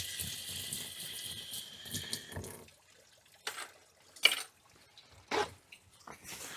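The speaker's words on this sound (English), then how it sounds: "We're going to run this under just a little bit of flowing water" A kitchen tap runs a thin stream of water over an old toothbrush as it is scrubbed, a soft hiss at first, then gives way to scattered splashes, drips and brief scrubbing bursts.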